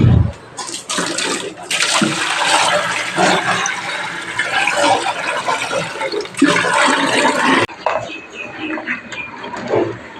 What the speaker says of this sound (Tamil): இதை நம்ம தூக்கி டேங்க்கில் ஊற்றிக்கலாம்.